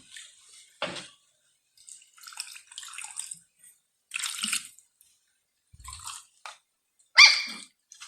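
Water is poured into a crab curry cooking in a village-style kitchen, heard as short splashing pours and drips scattered between pauses, close and fairly clear, with no talking.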